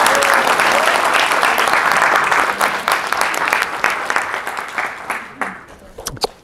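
Audience applause welcoming a speaker to the stage, a dense steady wash of clapping that gradually thins into scattered claps toward the end, with faint voices underneath.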